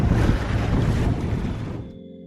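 A sailboat pushes through choppy waves on the way to Paros, a loud rush of water and wind buffeting close to the microphone that drops away abruptly near the end.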